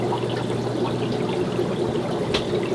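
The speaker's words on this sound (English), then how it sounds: "If we open this up, now more water is flowing." Water pours and trickles steadily through a Marineland Emperor Pro 450 aquarium filter, a continuous close splashing flow with no voices.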